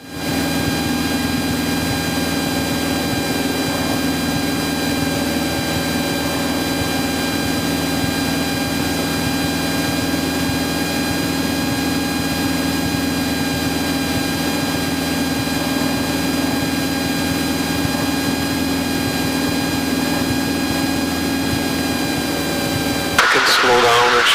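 Steady, loud drone of a Cessna 172 engine and propeller in cruise flight over the Lake Michigan shoreline, heard from inside the cabin as a constant hum with a few tonal whines, talk faintly under it.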